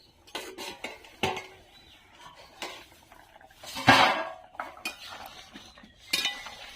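A pot of boiled green jackfruit is opened with a series of metallic clanks and clatters of lid and cookware, spread over several seconds, with one louder clash near the middle and no talking.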